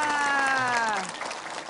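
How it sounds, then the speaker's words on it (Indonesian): Studio audience applause on an Indonesian religious TV talk show, broadband clapping with a tonal musical sting sliding down over the first second, then clapping continuing alone to the end. "Tepuk tangan untuk mereka semuanya."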